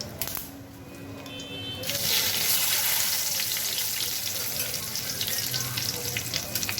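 Panch phoron, two dried red chillies and two bay leaves hit hot oil in a pan, bursting into a loud, steady sizzle that swells after a quieter start and crackles on without pause.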